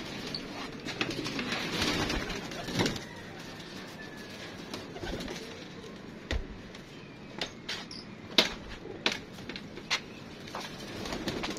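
Pigeons coo softly in a steady background murmur, with scattered clicks and a few sharper knocks; no one speaks.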